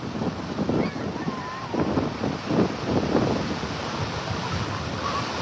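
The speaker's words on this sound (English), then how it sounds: "These waves crash different than any other place on earth." Ocean waves break on a beach in a steady rolling roar, with surges of surf about every second and wind buffeting the microphone, heard alone and fairly close.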